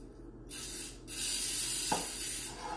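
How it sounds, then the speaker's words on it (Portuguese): Baking spray hisses into a cake pan for a pineapple upside-down cake: a short burst followed by a longer, steady spray, close and clear. "na pana vou dar spray,"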